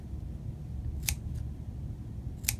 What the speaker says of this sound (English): You just want to snip.